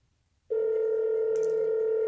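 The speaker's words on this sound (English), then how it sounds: "So you can see the phone's ringing there." A phone rings on a call notification for an Alpina AlpinerX smartwatch, a steady electronic ringing tone that starts abruptly and holds loud and close, with no talking.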